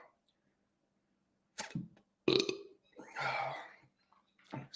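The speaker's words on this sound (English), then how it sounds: "The hiccups are not comfy." A person hiccups, giving a few abrupt, isolated bursts separated by silence, with some vocal noise mixed in.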